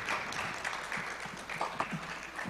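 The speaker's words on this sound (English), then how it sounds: "let us give our moderators a big round of applause" An audience at a conference gives a sustained round of applause for the moderators, a dense wash of clapping hands filling the hall at moderate distance.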